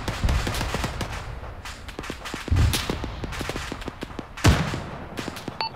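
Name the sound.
gunfire in the video game ArmA 3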